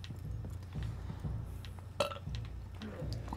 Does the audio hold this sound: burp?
yes